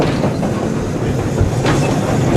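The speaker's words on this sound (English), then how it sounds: "Trundling towards us with, it looks like a goods train. Yeah, here it goes, it's pulling a goods train of mineral wagons" A Class 25 diesel locomotive rumbles past hauling a goods train of mineral wagons, with a steady, loud rolling roar and the rhythmic clatter of wheels over rail joints and no talking.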